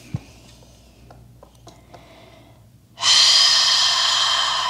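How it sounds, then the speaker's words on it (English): Forceful breathing during a Breath of Joy yoga exercise: a few sharp, short sniffs and snorts, then a long, loud, rushing exhale lasting nearly two seconds, close to the microphone. "Keep breathing."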